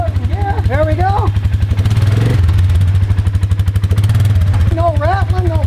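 A small vehicle engine chugs at idle after being put in gear, a close, loud, pulsing mechanical rattle that rises briefly, while someone talks over it at the start and the end.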